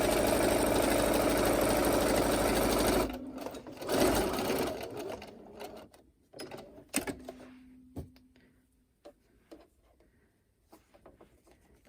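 A sewing machine stitches a fabric face mask with a filter pocket in a loud, steady, fast whirring run for about three seconds. It then stops, leaving faint handling clicks and knocks.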